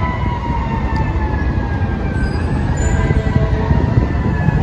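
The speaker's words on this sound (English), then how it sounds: "What are the sirens for?" Emergency vehicle sirens wail continuously over a heavy rumbling background in Baltimore city streets, their long tones sliding slowly in pitch, loud and steady throughout with no talking.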